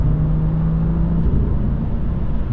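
A BMW's engine and exhaust while driving with Active Sound Designer switched off, a steady low drone and road rumble inside the cabin with a faint hum that fades midway.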